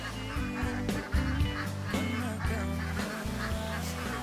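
Ducks quacking in a duck pen, a dense, continuous chorus of honking calls layered over a steady low rumble, with many birds calling at once close by.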